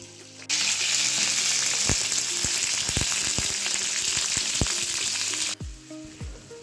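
Pieces of pointed gourd (potol) sizzle steadily in hot oil in a pan, a loud continuous fry hiss with occasional soft knocks from stirring, cutting off abruptly near the end.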